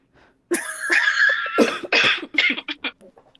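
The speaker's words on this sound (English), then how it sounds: "Not me coughing into the mic." A person coughs hard several times right into a close microphone during a live online show, the harsh, loud bursts coming in a broken run after a faint sound at the start.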